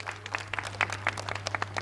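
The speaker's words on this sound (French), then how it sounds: "Veuillez applaudir." Scattered, fairly light applause from a school quiz show audience, moderately distant over a steady low hum, with no talking.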